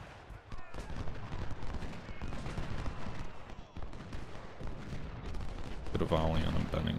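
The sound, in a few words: musket volley gunfire in Ultimate General: Civil War video game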